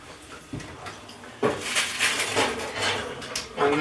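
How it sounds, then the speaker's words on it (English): A baking tray of flapjack is pulled from an oven in a home kitchen: a series of metallic clanks and knocks from the tray and oven, with soft rustling between them. "So I'm going to take it out of the oven now."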